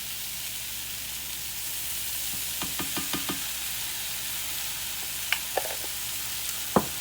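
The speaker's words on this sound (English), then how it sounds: "I'm going to add a teaspoon of minced garlic." Minced garlic sizzles in a pan in a steady, close hiss, with a cluster of light utensil knocks midway and a few sharper taps near the end.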